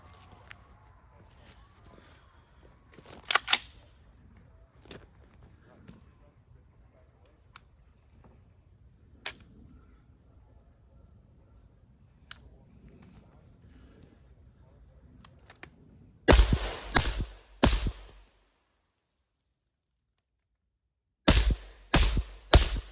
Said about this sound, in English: That's 6 rounds suppressed.